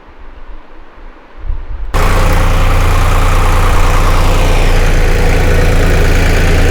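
A tractor engine ploughing a field starts quiet, then roars up abruptly and keeps running as a loud, steady, close rumble.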